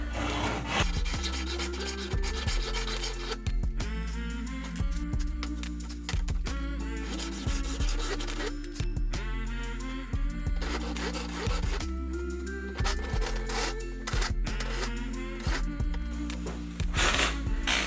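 Hacksaw cutting through a glass DRO scale, a steady rhythm of harsh rasping strokes, each back-and-forth pass grinding loudly and close, with brief pauses between runs of strokes.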